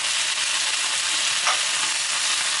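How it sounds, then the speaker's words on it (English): Chicken pieces for a Jamaican stew chicken fry in batches in a pan, giving a steady, dense sizzle with a faint crackle, close and continuous, with no voices. "We will just fry this up in batches"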